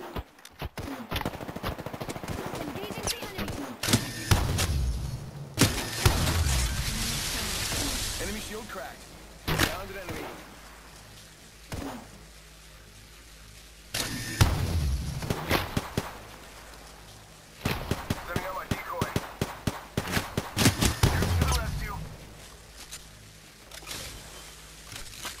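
Rapid gunfire bursts in the Apex Legends video game, several loud automatic volleys separated by quieter gaps with thuds and movement, and voices talking in places.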